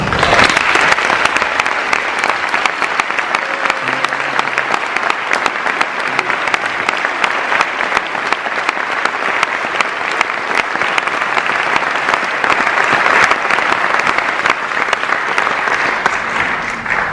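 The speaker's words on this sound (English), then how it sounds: "I now ask the induction class to please rise for one more round of applause." An audience at a National Honor Society induction ceremony claps in a sustained, dense round of applause that fills the hall for the full stretch, loud and steady with no talk.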